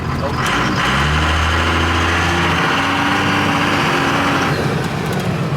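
A twin turbo Cummins diesel pickup, recently repaired and running smoky, roars loudly up through its revs with a rising drone and turbo whistle, steady and close inside the cab, then eases off near the end.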